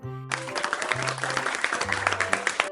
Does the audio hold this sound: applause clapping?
yes